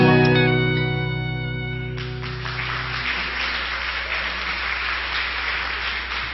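Audience at a church Sunday service applauding: a fading musical chord gives way to steady, moderately loud clapping from a gathered crowd that keeps going to the end.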